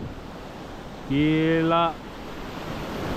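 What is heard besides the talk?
ocean waves breaking on the shore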